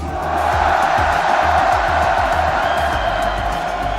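A large esports arena crowd cheering and roaring in a loud, continuous wall of noise, with a voice faintly under it.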